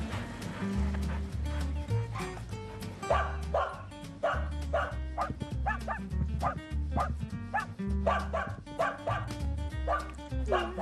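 A dog barks and yips repeatedly in a lively, uneven rhythm over a music bed, clear and close, in a Subaru Crosstrek car commercial.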